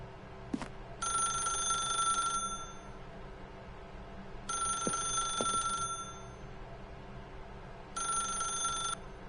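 A telephone rings in The Stanley Parable video game, three separate bursts of a bright electronic bell trill with short gaps, clear and moderately loud over a quiet background with a few faint clicks.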